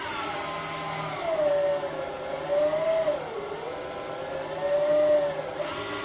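A 775 DC motor powered by a GOPHERT CPS-6005 60V 5A variable power supply runs with a steady, moderately loud whine whose pitch dips and rises a few times. No voices.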